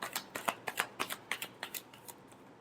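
A deck of tarot cards being shuffled, a quick run of soft riffling flicks about a dozen times before it fades, quiet and close with no voices.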